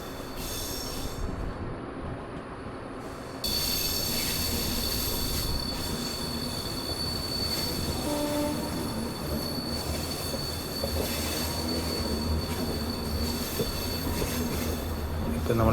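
A train climbing the Western Ghats near Aryankavu on the Kollam–Tenkasi line gives off a long, thin, continuous wheel squeal over a heavy rumble of rolling stock, loud and unbroken throughout.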